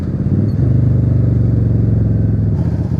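A motorcycle engine hums close and loud at steady revs while riding along a twisty road, a throbbing drone with a slight shift near the end.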